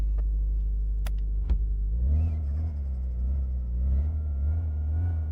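An engine turns over and catches at about two seconds, then idles with a deep, steady rumble inside a garage shop, loud and close, with no talking over it.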